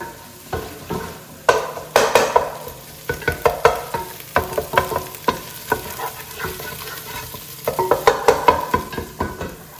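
Eggs being scrambled in a hot pan for fried rice, with a spatula scraping and clacking in quick irregular strokes over a steady sizzle, close and fairly loud, with no speech.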